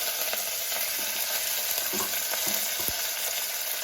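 Curry leaves crackle and sizzle in a pan of hot oil with tempering spices for a brinjal and tomato gravy curry, a steady close hiss broken by a few sharp pops, with no voices.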